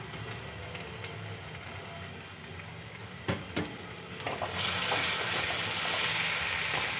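Ground chilli, coriander, cumin and turmeric powders sizzle in hot oil with onions for cauliflower curry, a steady frying hiss with a few stirring clatters that swells louder and brighter partway through.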